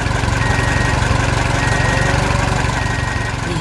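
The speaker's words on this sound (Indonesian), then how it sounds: "Traktor besar membawa trailer penuh pohon." A large tractor engine drones steadily and loudly while pulling a trailer loaded with trees, a continuous low rumble with no pauses, close by and alone, during fence-post work on a farm.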